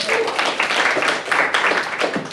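Crowd applause at a comedy club as two comedians are brought onto the stage, a dense, steady wash of clapping that holds for a couple of seconds.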